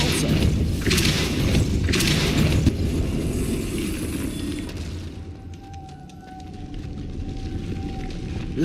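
A Depulso force spell in the video game Hogwarts Legacy lands as a heavy thumping boom, loud at first, then dying into a quieter rumble with a faint lingering tone.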